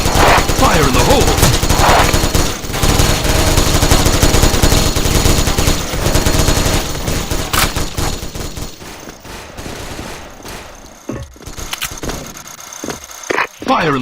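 Sustained rapid automatic fire from a Gatling gun in the shooter game LSF KAYBO, loud and continuous for most of the stretch, then breaking into shorter bursts and scattered shots mixed with game noise toward the end.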